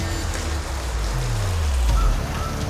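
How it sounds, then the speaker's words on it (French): Heavy rain pours across a flooded town in a dense, steady roar, with a low vehicle-like rumble sweeping through midway and no voices. "une pluie battante inonde la ville"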